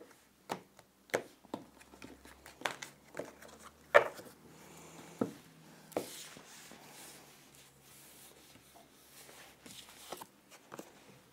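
A deck of cards is shuffled and cut, giving scattered soft riffles, taps and brushing clicks at close range. The sound is quiet and irregular, with pauses between bursts and no talking.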